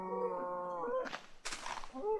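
A cow in the video game Minecraft moos twice, a low drawn-out call followed by a second bellow, loud and close with no talking.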